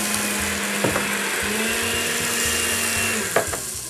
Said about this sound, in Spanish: aquí le estamos dando bonito todo a la licuada